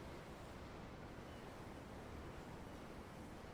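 Ocean waves at sea in Tales of Arise, a constant faint rush of surf and wind with no voices or other sounds.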